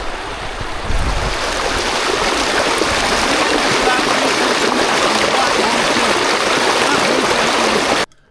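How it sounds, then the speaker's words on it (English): White water rapids captured close up by a DJI Osmo Action 5 Pro internal mic, a loud, dense, continuous roar of rushing water with a low thump near the start, cutting off abruptly at the end. "stick it right next to the white water. Again, this is the internal mic,"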